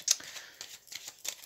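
Tarot cards being shuffled in the hands, a quick series of about five crisp riffling bursts close by, with no talk.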